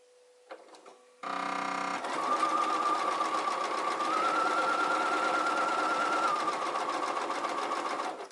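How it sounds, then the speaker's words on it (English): A sewing machine runs a straight stitch on a garment seam, starting after a few soft clicks and then humming steadily and loudly with a constant whirring motor tone for several seconds, nothing else audible. "I'm just doing a straight stitch"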